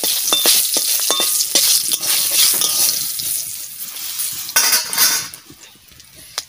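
Bay leaves, dried red chillies and whole cumin crackle and sizzle in hot oil, with a spatula clinking and scraping against the pan and the hiss easing off toward the end.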